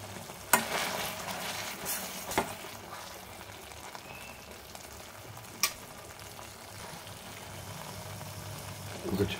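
Tomato chutney with a pinch of fenugreek powder fries in a pan as it is stirred, a steady low sizzle broken by a few sharp scrapes of the spoon against the metal.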